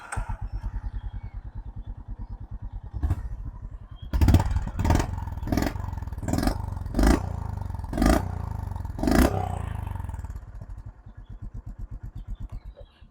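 A small, old-school motorcycle with a stock pipe fires up after a few cranks and settles into a loud, throaty idle, with repeated sharp revs blipping the throttle before it drops back to a fast, even putter.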